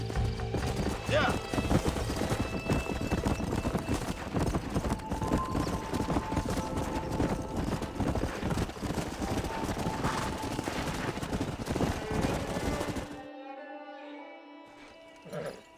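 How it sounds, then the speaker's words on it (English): Horse hooves clip-clop steadily while horses neigh and whinny in the video game Red Dead Redemption Remastered, busy and close, before the sound drops off abruptly near the end. "We got some fine horses."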